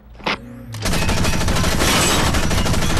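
Mech gunfire in the video game Front Mission Evolved: after a brief mechanical whir, a loud, sustained stream of rapid shots begins and keeps hammering without a break.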